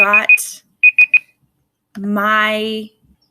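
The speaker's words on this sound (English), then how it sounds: "that timer was driving me crazy" A timer alarm goes off in bursts of three quick, piercing electronic beeps, heard twice, with a voice talking at the start and again afterward.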